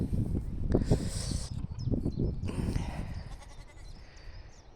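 A goat bleats loudly and close by on a small sunny farm, with a few wavering cries in a row, followed by quieter farmyard background.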